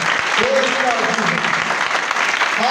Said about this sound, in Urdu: ایسے بھی کتنا زوردار تالیاں ہیں۔